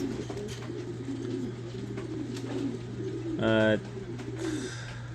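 Racing pigeons coo softly in a loft, low murmuring calls repeating under a steady background hum, with one louder close coo standing out and a brief spoken word.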